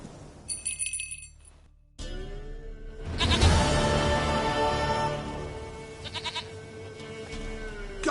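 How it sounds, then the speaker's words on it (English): A goat in a video game bleats loudly and up close, a long wavering cry lasting several seconds over a low droning background, preceded by brief chiming game sounds. "Goat of mine, dearest, sweetest goat."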